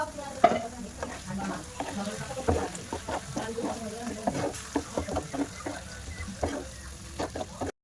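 Chicken masala fries and sizzles in a pan, with irregular scraping and stirring clatters of a utensil over a steady low crackle, heard up close at moderate volume.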